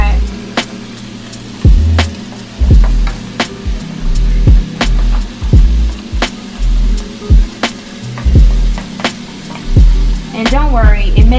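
Cauliflower and mushrooms frying in a crowded pan, with a soft steady sizzle under repeated sharp knocks and scrapes of a utensil, close and fairly loud, with a voice speaking over parts of it.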